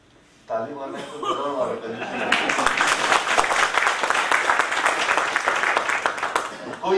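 An audience at a talk on finance breaks into clapping after a brief spoken lead-in, the dense applause building and holding steady, with scattered chuckles and voices mixed in.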